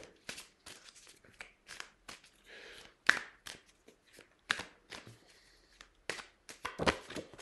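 Tarot cards being shuffled and drawn: quiet, close, irregular papery flicks and slides in short bursts, with soft gaps between them.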